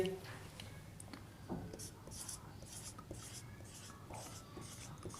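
Marker or chalk strokes scratch out numbers on a board during a maths lesson, a series of short quiet writing sounds in bursts under faint room noise and a low voice.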